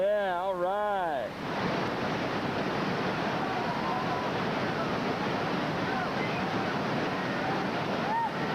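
Whitewater rapids on the Youghiogheny River during a rafting trip make a steady, loud rush of churning water; a voice calls out briefly at the start before the water noise fills everything.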